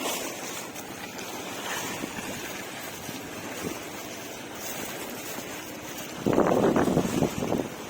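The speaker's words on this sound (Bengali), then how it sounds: "এত ঢেউ আসলে অনেক পরিমাণে ঢেউ" Waves on the Buriganga river lap and wash in a steady, wind-buffeted churn, with boats nearby and a louder surge of splashing near the end.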